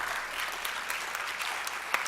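Keynote audience clapping hands in applause, a steady wash of many hands at moderate distance, even throughout with no voices over it.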